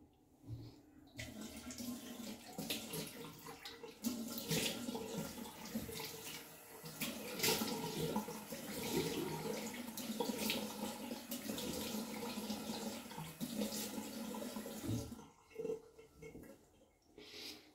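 Cold tap water runs steadily into a bathroom sink while a face is washed after a traditional shave, a continuous close splashing stream lasting most of the span before stopping near the end.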